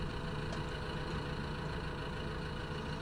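A tractor engine in Farming Simulator 15 labours under load, a dense, steady low rumble and drone held at constant strength throughout.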